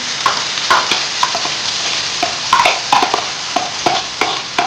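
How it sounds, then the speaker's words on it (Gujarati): Onions sizzle steadily in a hot pan while a utensil scrapes and knocks against it in irregular strokes. "હવે કાંદા નાખી દેવાના"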